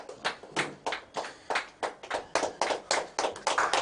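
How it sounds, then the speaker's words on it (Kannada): Audience clapping at a business group's prize draw event, steady rhythmic claps repeating in regular bursts, fairly close and clear, with no talking over it. "ಸರ್ ಕೈ ಚಪ್ಪಾಳೆ, ಜೋರಾದ ಚಪ್ಪಾಳೆ ಸರ್"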